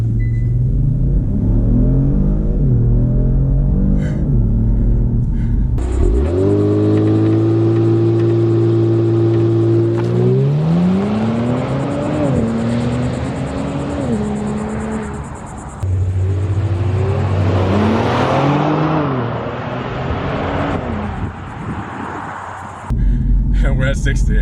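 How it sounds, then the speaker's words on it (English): A Kia Stinger GT idles, then blasts off under launch control. The loud engine roar rises sharply and dips at each upshift as the car pulls hard, with a steady rumbling drone throughout. "traction off in sport mode, steering wheel is straight, foot down on the brake, put it in drive, on the gas"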